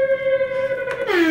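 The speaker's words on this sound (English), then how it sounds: "So you got this siren, right?" A siren sound effect played through an LG XBOOM RK8 Bluetooth speaker holds a steady, loud tone, then swoops downward near the end, with no voices.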